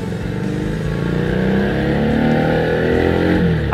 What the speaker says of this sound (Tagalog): in love talaga ako sa rev nito, sa tunog ng ng kanyang makina, tambucho